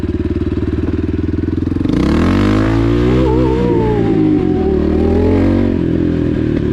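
A Dakar 250 enduro motorcycle engine idles with a steady rapid throb, then revs up hard and holds a loud, rising and wavering roar close by.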